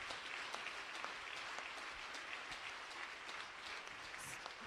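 A church congregation applauds for the Holy Spirit, continuous crowd clapping at moderate distance, dense and steady throughout.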